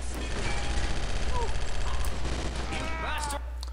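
Gunfire from the video game Chaser, a steady busy mix of shots through most of the stretch with electronic game tones layered in, fairly loud and continuous rather than isolated bangs.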